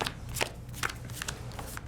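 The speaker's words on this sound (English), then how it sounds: "Want to shuffle 5 equal stacks?" Playing cards are shuffled for a Pandemic Legacy Season 0 board game, giving several quick riffling bursts at close range over a low background hum with no talking.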